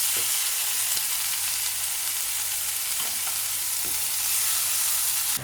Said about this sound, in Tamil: அப்புறம் இதில் கொஞ்சம் உப்பு சேர்த்துக்கோங்க. அப்போ சீக்கிரமாக தக்காளி வதங்கிடும்.